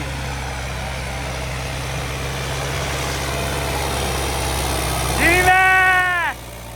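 Modified plunger diesel tractor engine running steadily at a fairground pulling contest, a constant loud low drone throughout, with a brief harmonic whine near the end and people talking over it.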